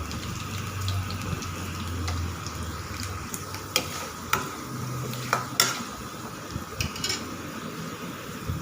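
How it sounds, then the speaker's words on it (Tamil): Garlic cloves sautéing in oil for an okra tamarind curry, a soft steady sizzle under occasional spatula scrapes and light pan taps. "அதையும் சேர்த்துட்டு நல்லா நம்ம பூண்டு நல்லா வதங்கி வர வரைய நல்லா வதக்கி விட்டுக்கோங்க"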